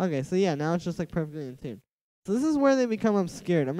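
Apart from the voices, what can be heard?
No everyday noise stands out behind the speech.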